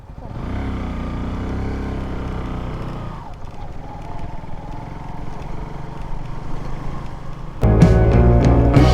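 A motorbike rides along a road toward a beach, its engine droning steadily and close throughout, with a louder, brighter burst of engine and wind noise near the end.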